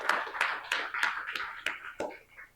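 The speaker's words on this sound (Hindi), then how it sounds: "एक बार खुद के लिए तालियां बजाओ" A classroom audience claps for themselves in a steady, evenly spaced rhythm of about eight crisp claps that slows slightly at the end, with no voices.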